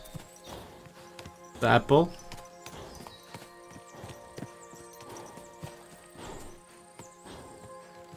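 A short burst of horse hoof clip-clops in the video game Kingdom Come: Deliverance, a few quick steps close by, amid quiet background sounds and a brief spoken question.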